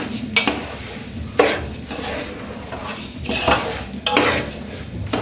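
Washed, dried rice being fried in a pan and stirred, heard as a few loud scraping, clattering strokes of a utensil against the metal, spaced a second or two apart, with a faint sizzle in between.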